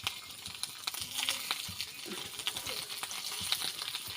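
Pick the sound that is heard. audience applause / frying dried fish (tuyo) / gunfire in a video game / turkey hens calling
frying dried fish (tuyo)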